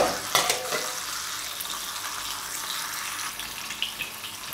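Chicken sizzles and fries in a skillet for a Jamaican pot roast, a steady close crackling hiss with a few louder spits and stirring scrapes and no talking.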